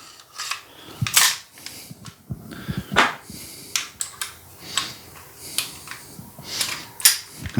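Reassembly of an Umarex HK USP blowback CO2 BB pistol, with a close, loud series of sharp plastic and metal clicks, snaps and slides at an irregular pace and no talking.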